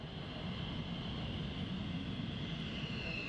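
Military jet aircraft at RAF Lakenheath give off a steady, distant roar with a high whine running over it, continuous and without talk.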